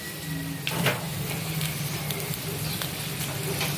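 Dried red chillies crackle and sizzle in hot oil in a pan while being toasted for potato mash, a steady close frying hiss with scattered pops and scraping stirs.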